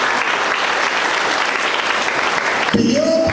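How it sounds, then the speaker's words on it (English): Loud, dense audience applause at a media parley awards talk, sustained clapping from a large crowd for nearly three seconds before it gives way to a tonal sting and background voices. "I think we deserve a round of applause for that."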